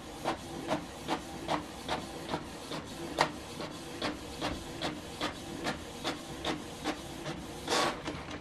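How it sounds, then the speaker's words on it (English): A Canon Pixma TS8350 printer prints a document with soft, regular mechanical pulses and whirs repeating about once a second, quiet and close, with no talking. "So what it's doing right now is printing this document."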